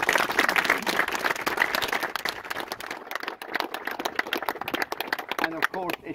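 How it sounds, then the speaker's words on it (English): Outdoor crowd applauding at a sculpture ribbon cutting, dense sustained clapping that gradually thins into scattered claps, with voices talking over the end. "I think they deserve a big round of applause"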